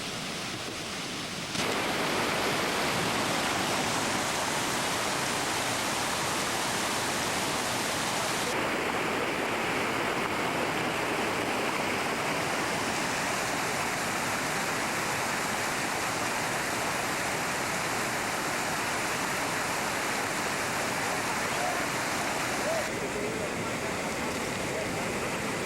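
Rushing water from a small waterfall at Agua Azul in Chiapas roars in a loud, steady, dense wash that fills the whole stretch without pause.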